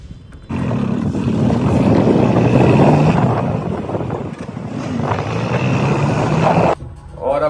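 A motorbike ridden at speed gives off a loud, gusting roar of wind buffeting the microphone for about six seconds before it cuts off abruptly, with a brief voice right after.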